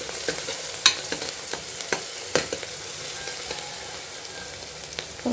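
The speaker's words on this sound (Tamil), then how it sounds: "பாருங்கள், நல்லா வதங்கிக்கிட்டு இருக்கு வெங்காயம்" Onions sautéing in a pan for a mutton dish, with a steady close sizzle broken by a few sharp spatula scrapes and knocks against the pan, and no voices.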